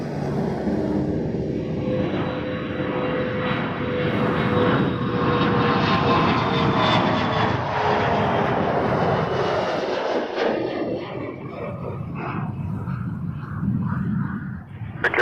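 Aircraft engines roar steadily at Toronto Pearson Airport, a loud sustained drone with whining tones that shift in pitch as a plane passes, then gradually fades toward the end.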